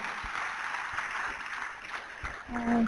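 Audience applause welcoming a speaker onto stage at a business event, a moderate, fairly distant wash of clapping that holds steady, with a brief voice or tone entering near the end.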